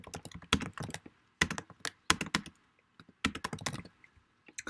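Quiet clicking keystrokes on a computer keyboard while coding JavaScript, typed in short bursts separated by pauses, close and faint with no talk.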